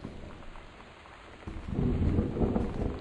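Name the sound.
thunderstorm in the video game Gone Home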